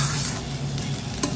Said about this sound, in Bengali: মাছটাকে ভাজছি।